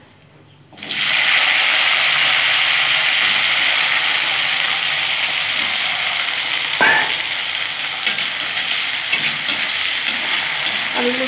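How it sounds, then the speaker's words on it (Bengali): Potatoes fry in hot oil seasoned with cumin seeds, giving a loud, steady sizzle that starts abruptly and continues close up, with an occasional clink of utensils and no talking. "আলুগুলো একটু লাল লাল করে ভেজে নেব।"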